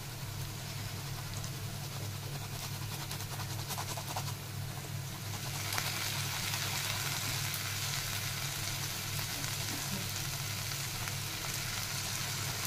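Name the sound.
onion frying in a pan for prawn khima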